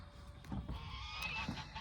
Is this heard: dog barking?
no